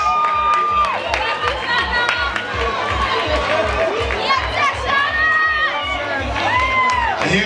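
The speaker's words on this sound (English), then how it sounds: "Put your hands together for applause." Crowd at a high school sports day cheering, shouting and clapping steadily over a race, children's voices rising above the noise, with a loud low thumping beat underneath and talk mixed in.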